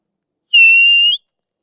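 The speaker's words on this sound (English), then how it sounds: "you take your tongue, you put it up to your teeth, the whistle here, and then you blow" A single close, loud whistle blast of about half a second, a steady shrill tone that starts and stops sharply, with silence on both sides.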